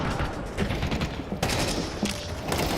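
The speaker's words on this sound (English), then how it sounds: "He gets shot at." Gunfire during a professional Counter-Strike match at IEM Cologne 2024, a rapid burst of shots with rattling automatic fire and sharp cracks over a steady game ambience, with no talking.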